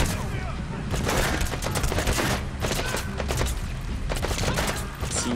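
Rapid rifle fire from Russian soldiers in Metal Gear Solid V, a dense continuous fusillade of overlapping shots at steady loudness throughout, with faint talk underneath.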